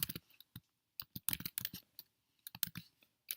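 Computer keyboard keys clack in quick irregular bursts of typing, close and fairly quiet, with short pauses between runs of keystrokes and no talking.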